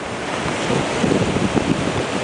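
Surf pounds a Florida beach at Destin as a tropical storm approaches, a continuous loud roar of breaking waves mixed with buffeting wind noise on the microphone.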